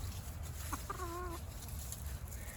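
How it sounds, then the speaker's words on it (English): A single short clucking call from a rooster, a brief wavering note heard once against a steady background hum. "Let's go see the rooster."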